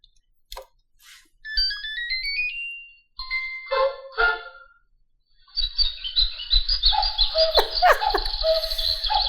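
Cuckoo A50 premium rice cooker playing its cute chime, a clear electronic melody of rising and falling bird-like chirps and a cuckoo call, loud and alone with no talk.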